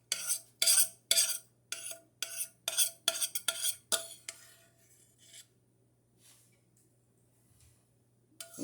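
Flaxseed gel is scooped out of a pot with about a dozen quick, close scraping strokes in a steady rhythm, then the sound fades to near silence.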